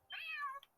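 A single short cat meow in the game Trails through Daybreak, clear and close, with no other sound around it.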